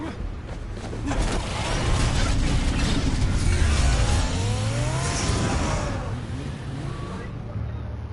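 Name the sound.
car driving by in Batman Telltale video game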